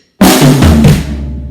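A drum kit plays a short pattern with a triplet figure and a kick on the downbeat, loud and close, with a sustained cymbal wash ringing out alone.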